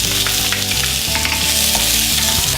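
Chopped onion sautéing in a hot pan for a tamarind chilli baby potato dish gives off a steady, loud sizzle with occasional stirring scrapes, close up and with no voices.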